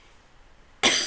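A single loud, harsh cough bursts out after a stretch of near silence, close to the mic.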